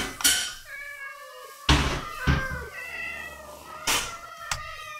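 Minecraft cats meow repeatedly in short tonal calls, several in a row, clear and close, with a few thumps between them and no talking.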